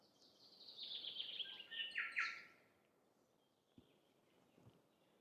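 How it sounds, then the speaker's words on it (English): Birds chirp and trill in a bright burst of song for about two seconds at a New Zealand campsite, then fade, leaving quiet outdoor background with a couple of soft knocks. "Those birds just then, amazing."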